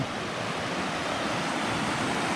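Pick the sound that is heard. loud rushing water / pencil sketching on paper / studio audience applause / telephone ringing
loud rushing water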